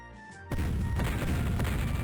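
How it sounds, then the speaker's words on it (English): Dense crackling volleys of musket and cannon counter fire in the Civil War Generals 2 Bull Run battle break out suddenly after a quiet half second and roll on loudly and continuously to the end. "Yeah, it's counter fire."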